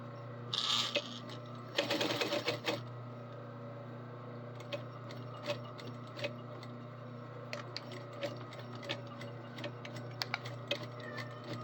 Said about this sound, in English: And we backstitch the end of it.